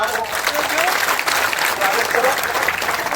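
A crowd claps at a protest sit-in in Didwana, with dense, loud, sustained applause filling the whole stretch and murmured voices faintly audible beneath it.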